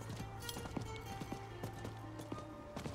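A horse gallops in Diablo 4, its quick rhythmic hoofbeats fairly faint and close, with no talk.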